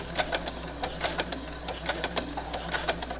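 A home sewing machine set to its shortest stitch makes a few stitches in place while quilting a fall table runner, a close, even rhythm of quick mechanical ticks over a low steady motor hum.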